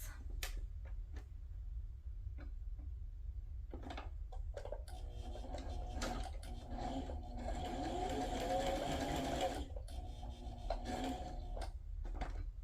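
A sewing machine stitches fabric tags, its steady mechanical whir and needle chatter running close and continuous through the middle with brief stops and starts at either end.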